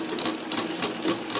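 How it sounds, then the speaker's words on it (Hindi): A domestic sewing machine runs steadily, stitching fabric in a straight seam with a continuous, fairly close whirring rhythm and no voices over it. "देखिए फ्रेंड्स कितनी सुंदर साफ सिलाई आ रही है।"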